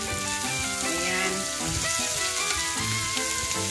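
Squash and crab sizzling steadily in a pan while being stirred, the frying hiss running under melodic background music.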